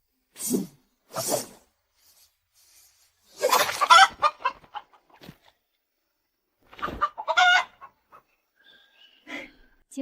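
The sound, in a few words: chicken clucking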